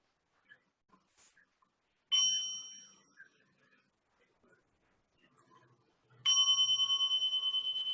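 A mindfulness bell, struck twice several seconds apart, each strike a clear ringing tone that slowly decays, the second louder and sustained, with faint soft speech in the quiet between them.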